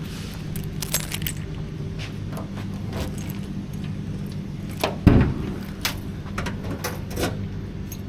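Car keys jangle and clink in loose bursts over a low steady hum, with one sharper metallic clatter partway through, at the trunk of a 1971 Chevelle.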